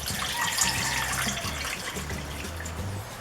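Tap water runs steadily into a cooking pot over raw pork meat, a continuous close gushing and splashing that fills the whole stretch without pause.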